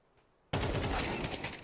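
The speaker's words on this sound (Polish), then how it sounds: "bardzo ładny strzał prosto w głowę rywala" Silence, then a sudden loud burst of rapid gunfire in a video game tournament match that keeps rattling on in a dense, sustained volley.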